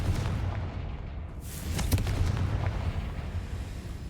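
A Confringo blasting spell from Hogwarts Legacy, a booming explosion with a burst of crackling debris about midway, set against a dense rumbling background of in-game combat.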